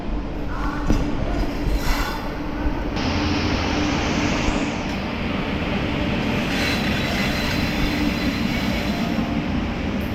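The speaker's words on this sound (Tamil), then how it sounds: "இங்கே பார்த்தீங்கன்னா உங்களுக்கு எட்டாவது பிளாட்ஃபார்மில் ட்ரெயின் வந்துட்டுருக்குங்க" A suburban train on the Chennai Beach to Tambaram line rumbles and clatters steadily nearby as it arrives at platform 8, with brief higher squeals and hiss over the continuous rolling noise, no voices.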